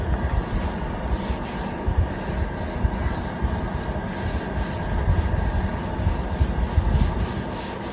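Oil is rubbed across the steel surface of a new Blackstone outdoor griddle in a continuous close scrubbing and wiping rasp with uneven surges, heard alone without talk.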